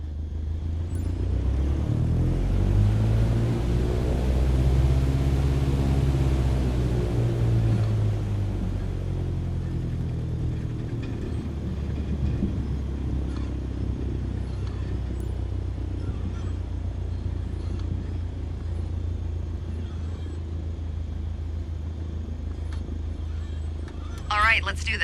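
A small airplane's engine idles and rumbles as it taxis to the runway in Microsoft Flight Simulator, a steady low drone that swells early on, with someone talking over it throughout.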